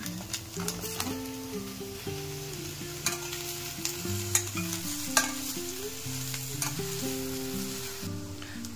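Mushrooms sauté in a pan for sambar, a continuous gentle sizzle with scattered stirring clicks and scrapes, heard under steady background music.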